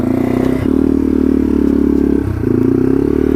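A Yamaha TW200 motorcycle rides through a snowy forest, its loud, close engine holding a steady drone with two brief dips where the throttle eases before pulling again.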